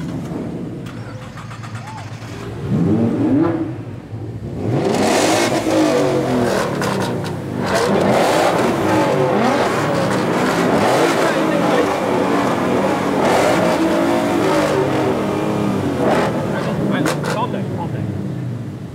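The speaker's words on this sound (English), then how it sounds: "Ladies and gentlemen, start your engines!" Several supercars start up and rev at a demo run during the Beaulieu Supercar Weekend, with loud overlapping engine roars and rising revs that build into a dense, continuous blare, and a crowd and announcer audible underneath.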